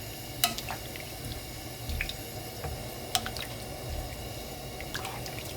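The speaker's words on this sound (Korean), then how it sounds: "살짝 데쳐줄게요." Greens are swirled briefly in a pot of hot water while being blanched for a chilled summer soup, giving soft sloshing and scattered bright drips and splashes over a steady watery wash, close and fairly quiet.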